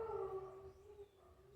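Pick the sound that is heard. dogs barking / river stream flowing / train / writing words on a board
dogs barking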